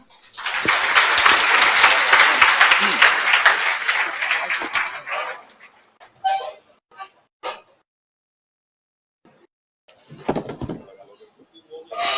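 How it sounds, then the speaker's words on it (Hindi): A seminar audience breaks into loud, dense applause that lasts about five seconds, fades into a few scattered claps, goes quiet, then briefly swells again near the end. "जोरदार तालियां।"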